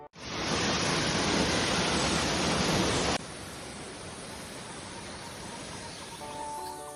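Gondar waterfall on a downhill trail in Uttarakhand pours as a loud, steady roar of rushing water, dropping to a softer but still continuous rush partway through, with a faint chirp near the end.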